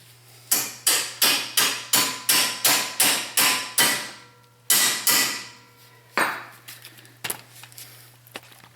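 A punch and then a bolt are hammered through the rear wheel hub of a Volvo XC90 during a wheel bearing replacement. About a dozen sharp, evenly spaced metallic blows ring out close by, then come a pause and a few final strikes.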